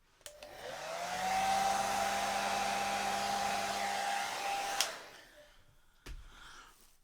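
A hair dryer blows steadily on high for about four and a half seconds, pushing wet paint off a Dutch pour canvas, then clicks off and leaves a short quiet tail.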